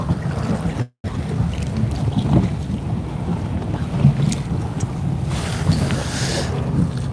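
A racing sailboat, Holcim PRB, foiling high out of the water at an in-port race off Cape Town, heard as a steady rush of wind and water with gusty buffeting on the microphone and a brief dropout.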